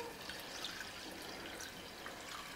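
Water pours steadily into a pot of rinsed basmati rice for a pork and homemade sausage winter soup, a continuous, fairly faint rushing wash with no voices.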